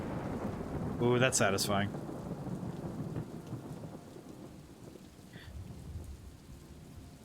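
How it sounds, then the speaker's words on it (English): Rain and thunder from the video game Superliminal, a steady soft rainfall with low rumbles running throughout, while a person speaks briefly near the start. "Oddly satisfying how listening to rain is instantly calming."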